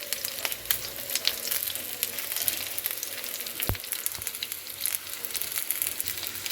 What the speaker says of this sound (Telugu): చూడండి ఫ్రెండ్స్, చక్కగా ఫ్రై అవుతున్నాయి